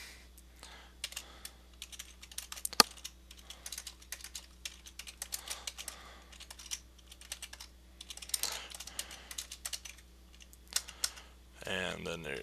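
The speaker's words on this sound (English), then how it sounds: "So now you're gonna type all this in again" Rapid, uneven tapping on a computer keyboard while entering a name and address into a web form, close and fairly quiet, with bursts of keystrokes broken by brief pauses.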